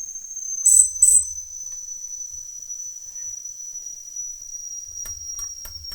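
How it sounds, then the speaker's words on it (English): Steam hisses steadily from a slightly leaking whistle on a Mamod SR1a toy steam roller, a thin continuous high tone running throughout, with two brief louder bursts near the start and faint clicks and rustles toward the end. "I can tell that the whistle is leaking a little bit."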